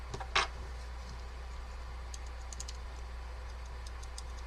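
Clicky Alps switches on a Focus FK-2001 keyboard give a few faint, scattered clicks and clacks over a steady low hum, with one sharper keystroke near the start.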